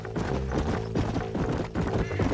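Horses trot through a Red Dead Redemption game world, their hooves clip-clopping in a steady rhythm with a whinny mixed in, moderately loud and continuous, without any voices.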